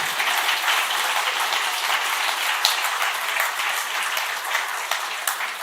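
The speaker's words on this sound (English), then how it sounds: "Huge round of applause, please, for our wonderful contestants." Audience applause for contestants at the ICPC World Finals, a sustained, dense clapping from a large crowd in a hall with a few sharper claps standing out near the end.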